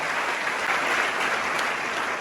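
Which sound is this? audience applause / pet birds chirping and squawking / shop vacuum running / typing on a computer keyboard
audience applause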